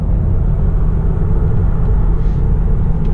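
Tesla Model 3 Performance in Track Mode pulling out of a corner on a race circuit, a steady loud low rumble of motor and road noise that continues unbroken throughout, with no talk over it.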